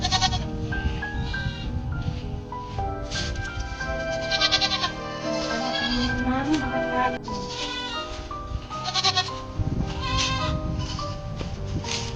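Goats bleat repeatedly, near and loud, as a tethered goat and another with young are led to a sheltered feeding spot, with outdoor background noise throughout.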